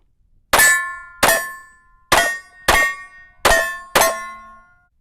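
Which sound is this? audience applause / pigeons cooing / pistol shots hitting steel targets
pistol shots hitting steel targets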